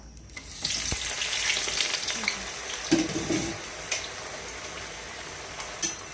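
Eggplant slides into a generous amount of hot oil and erupts into a loud, hissing fry that holds steady, with a few sharp spatters and clinks near the end.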